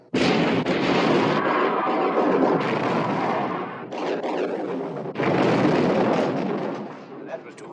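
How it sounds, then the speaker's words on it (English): Naval gun turrets aboard a World War II battleship open fire in a war film, a dense roar of heavy blasts rolling almost continuously with brief dips between salvos, loud and close. "All turrets ready to open fire, sir."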